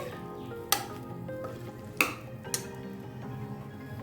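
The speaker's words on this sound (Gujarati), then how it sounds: "તો સારી રીતે આપણે અહીંયા પહેલા એને મિક્સ કરી લેવાનું છે." A dudhi (bottle gourd) and dal mixture being stirred, heard as a few sharp spoon clinks against the vessel spaced about a second apart, with quiet, soft stirring between them.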